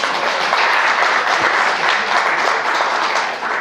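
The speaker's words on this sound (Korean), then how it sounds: "박수." A church congregation at a Korean Sunday intergenerational worship service bursts into full, continuous applause, loud and evenly sustained from start to finish.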